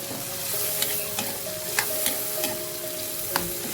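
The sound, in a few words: fermented fish bagoong added to pan, sizzling and stirred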